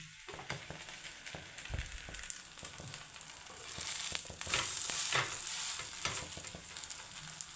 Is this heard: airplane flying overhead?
no